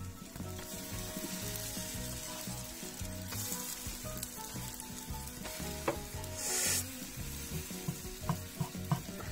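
Polish racuchy pancakes fry in a pan with a steady, close sizzle throughout, broken by occasional clinks and scrapes and a brief louder hiss partway through.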